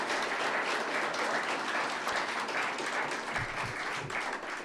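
Applause fills a session of the Brazilian Senate, a steady, dense wash of many hands clapping across the chamber that holds at an even level throughout with no voices rising above it.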